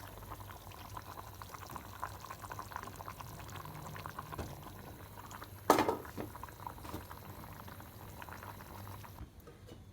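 A pot of chicken cooked with lentils bubbles steadily at a low, close simmer, with a constant wet burble and one brief louder splash partway through.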